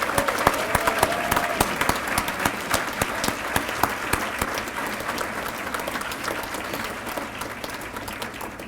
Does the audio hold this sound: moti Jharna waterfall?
no